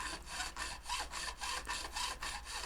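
A metal file dresses and bevels the fret ends on a 1974 Telecaster neck in close, steady, rhythmic rasping strokes, about eight of them, with no voice.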